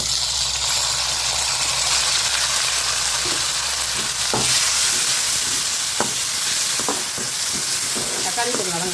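Tomatoes fry with onions and curry leaves in a pan for dried fish thokku, giving a steady, close sizzle with occasional stirring scrapes and clinks and no talk.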